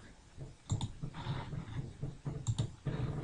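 A computer mouse clicks at a desk, several quiet sharp clicks in small clusters, close and isolated, with no one talking.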